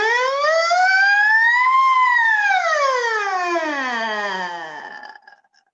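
Singers glide an airy "ooh" vocal siren, a voice imitating a siren, sweeping up, arching over and sliding down to a low tail before cutting off, loud and sustained for about five seconds.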